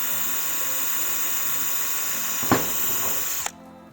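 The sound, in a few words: drilling a hole through Lexan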